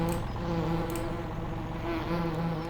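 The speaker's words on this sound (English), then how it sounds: "Oh, I can hear the bees. They are buzzing." Bees buzz in a video game, a steady dense drone holding at an even loudness throughout with no talking.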